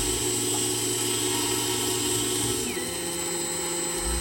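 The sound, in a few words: parting off steam engine top cap on Myford Super 7 lathe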